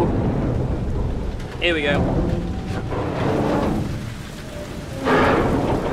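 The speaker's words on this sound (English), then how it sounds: "It's raining out here and it's wet and it's cold." Rain and thunder from The Last of Us video game: a steady downpour hisses throughout with low rumbling thunder, and someone speaks briefly over it.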